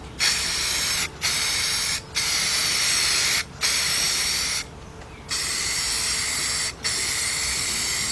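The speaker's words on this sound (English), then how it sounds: "Like a spray gun." Repeated bursts of aerosol spray paint hiss out close by, each lasting about a second with short pauses between them.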